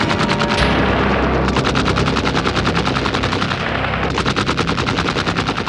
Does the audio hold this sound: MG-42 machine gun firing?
yes